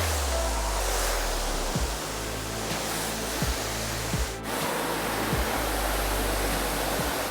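A steady, loud rush of water from a hose rinsing pre-wash off a matte car, broadband spray noise with a few brief dips and thuds as the stream shifts.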